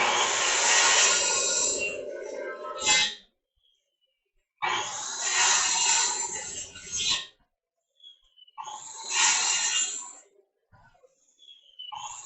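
Circular saw cutting a series of closely spaced notch cuts in wood, about every quarter inch, heard as three loud, close bursts of high whining blade noise separated by short silent gaps.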